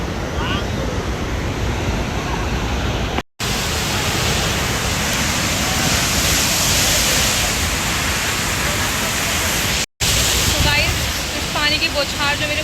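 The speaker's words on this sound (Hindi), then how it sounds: "इस झरने की जो बौछार आ रही है ना मुंह पे" Tegenungan waterfall in Bali roars as a steady, loud broadband rush of falling water and spray, continuous throughout with two brief dropouts, and faint voices audible beneath the roar.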